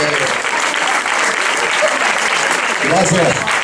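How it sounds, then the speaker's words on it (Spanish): A crowd at a hypnosis stage show applauds loudly and continuously, a thick wash of clapping with voices faintly mixed in. "aplaudan más fuerte"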